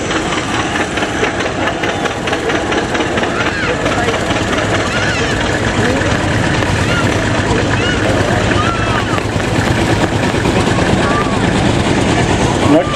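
A steady, loud engine drone from an Overtime tractor, American-built and imported from Canada, runs unbroken at an agricultural show, with a continuous knocking rumble, outdoor crowd noise and public-address talk mixed in.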